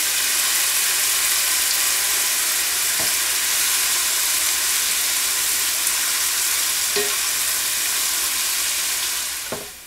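Onion and garlic gently frying in a pan for broad beans with clams, a steady dense sizzle with a few faint clicks of stirring, loud and close, with no voices.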